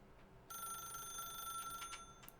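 A telephone bell rings in a continuous electric trill that starts abruptly and holds steady, fairly faint, with no voices over it.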